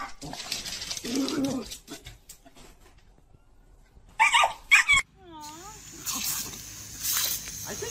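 A pet dog whimpers and yips in short bursts, with a couple of sharp barks near the middle, close by, amid household sounds and people talking.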